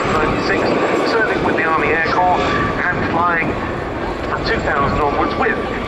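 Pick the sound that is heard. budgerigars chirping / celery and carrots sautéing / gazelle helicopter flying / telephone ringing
gazelle helicopter flying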